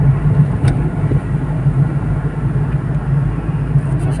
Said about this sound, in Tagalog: Sasakyan na.